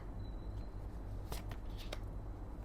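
Tarot cards shuffled by hand in a few quick riffling bursts, close and fairly quiet, over a steady low background hum with no talking.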